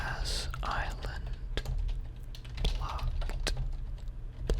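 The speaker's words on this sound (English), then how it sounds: "So let's type just random stuff right now" Fast, uneven keystrokes clatter on a computer keyboard, close and fairly soft, with a few sharper taps standing out over a low steady hum, with no voice.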